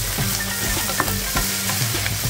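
Lentil and chickpea curry frying in oil in a pan gives a steady, close sizzle, with faint stirring clinks and scrapes scattered over the hiss.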